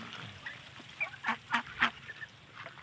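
Several ducks quack and honk at middle distance, a few louder calls standing out over a steady outdoor hiss.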